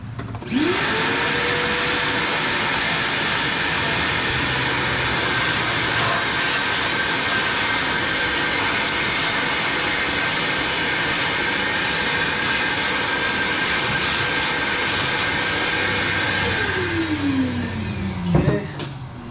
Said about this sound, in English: I'm gonna vacuum around it because there's just junk sitting up there